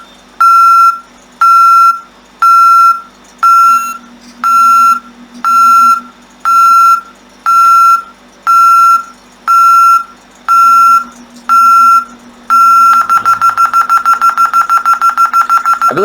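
An Ademco home alarm system's entry delay sounds a loud, high, clean electronic beep in a steady on-off pattern, about a dozen evenly spaced tones. It then switches to rapid continuous pulsing with no talking.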